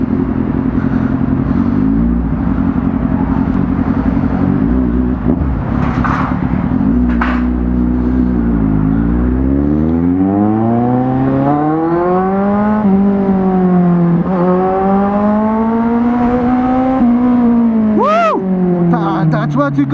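A Kawasaki Z1000 sport motorcycle engine revs hard and repeatedly, pitch climbing and falling in long sweeps, loud and close, with brief shouts from people nearby.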